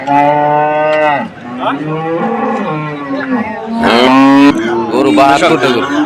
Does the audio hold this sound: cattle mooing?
yes